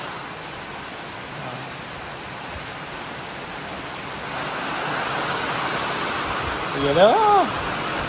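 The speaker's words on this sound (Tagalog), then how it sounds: "Ang ulan." Rain falls at a house, a broad steady hiss that swells and thickens midway, with a person speaking briefly near the end.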